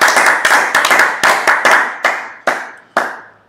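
A church congregation claps in fast rhythmic unison during a prayer service, loud and close, the bursts spacing out and slowing toward the end with no voices.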